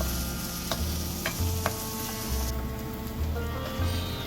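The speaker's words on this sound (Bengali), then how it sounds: "তেল গরম হওয়ার পর আমরা কাটা পেঁয়াজ এবং কাটা রসুন দিয়ে দিলাম। এখন আমরা ভালো করে ভেজে নিচ্ছি।" Chopped onion and garlic frying in a little hot oil in a pan, a steady close sizzle with a few sharp spoon scrapes and low stirring thumps.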